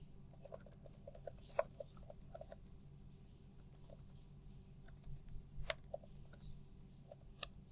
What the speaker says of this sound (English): I'm going to type in the directions for the students.